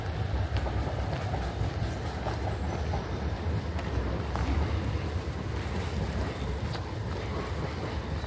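A train rolls past near Tower Hamlets Cemetery Park, a steady rumbling wash with faint rhythmic clatter, moderately distant under outdoor wind and ambient noise.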